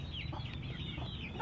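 A hen clucks close by on a Vietnamese farm, several short soft clucks and chirpy calls over a low steady background hum.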